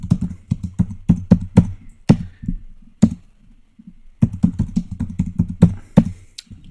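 Keys on a computer keyboard clack crisply and close in quick uneven runs of presses, stopping for about a second before another burst of typing resumes, with no voices.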